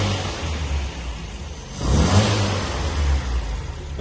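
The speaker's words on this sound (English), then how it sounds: "Engine sounds nice." A 1978 MG B classic car's engine runs nearby, a steady mid-pitched hum that swells into a firmer rev partway through and then settles back, with no voices.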